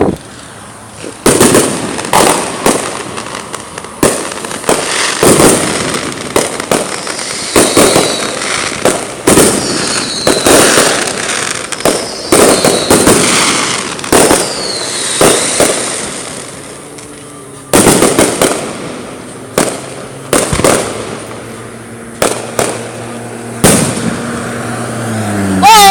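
Fireworks bursting right overhead in a rapid, irregular series of loud sharp bangs and crackles with brief gaps between volleys, while a spectator exclaims in between.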